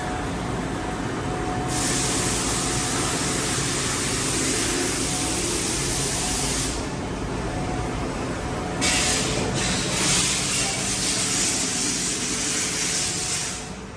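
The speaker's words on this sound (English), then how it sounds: "500 psi through spindle coolant." A 2014 Toyoda FV1365 vertical machining center sprays 500 psi through-spindle coolant with a loud, steady hiss. The hissing surges in several bursts over a constant machine hum.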